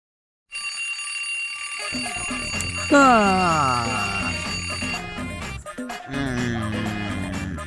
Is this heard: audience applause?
no